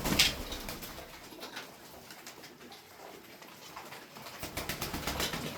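Pigeons coo softly nearby, low throaty murmurs repeating over faint rustling and background noise.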